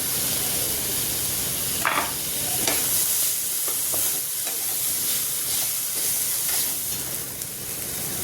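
Tomato frying in a hot tadka (tempering) on low gas, a steady close sizzle and hiss with occasional scraping stir sounds, no talking.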